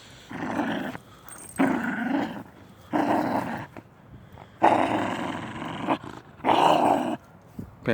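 A dog growls and snarls in repeated deep, rough bursts with short pauses between them, loud and close, with no talking over it.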